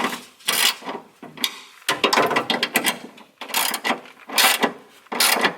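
A bolt on the straight-piped exhaust of a Nissan GT-R is tightened with a ratchet, producing several close, loud bursts of rapid clicking separated by short pauses.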